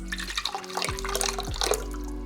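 Water pours from a big jug into a container, a steady liquid splash with a couple of brief gurgling glugs, close and clear with no talking.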